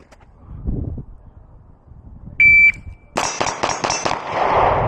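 A shot timer at a pistol range gives a single sharp electronic start beep, followed moments later by a rapid string of loud, close pistol shots with ringing echo.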